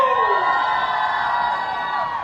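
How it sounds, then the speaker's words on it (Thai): A crowd at a product launch event for a Freshy syrup brand bursts into high-pitched cheering and shrieks that ring out loudly and steadily, tapering slightly at the end. "ขอเสียงปรบมือให้กับบิลกิ้นเอนเตอร์เทนเมนต์ทีมงานเบื้องหลังด้วย"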